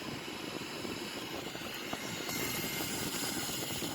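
Twin-engine Sukhoi Su-30M2 jet flying close alongside, heard from inside a cockpit as a dense, steady roaring engine wash with a hiss, continuous and loud, no talk.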